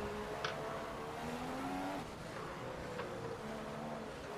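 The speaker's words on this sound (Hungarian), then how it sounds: "Jaj, de csúszik az autó." Race car sliding in the F1 2015 racing game at the British Grand Prix, a steady engine drone with shifting tonal whine and faint tire scrub running continuously at moderate level, no voices.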